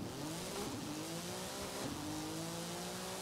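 A Porsche 911 GT2 drag build launching in Forza Horizon 5, the engine revving hard and climbing through the gears with tire squeal, loud and close throughout.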